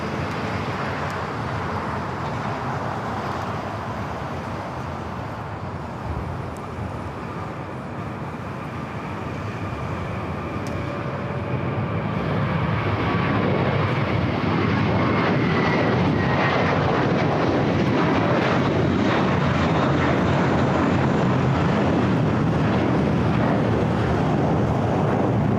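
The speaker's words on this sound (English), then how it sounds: "Korean Air Flight 18 rolling down to 24 left" A Korean Air Boeing 777-300ER, Flight 18, takes off on runway 24 left at LAX, its engine roar broad and steady, then swelling louder and rougher about halfway through as it accelerates down the runway nearby, with no voices.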